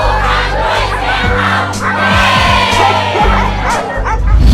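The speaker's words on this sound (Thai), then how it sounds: "สู้กันด้วยเสียงเห่า" Dogs in a barking contest at a televised rally, several barking loudly and repeatedly in quick overlapping bursts over a noisy crowd, with people talking and cheering around them.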